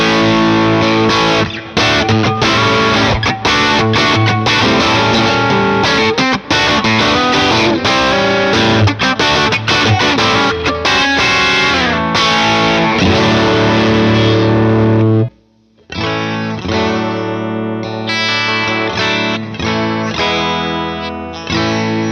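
An electric guitar runs through an overdrive pedal at its basic setting, playing dense, distorted riffs and chords continuously and loudly, with one short gap before the playing resumes; no talking.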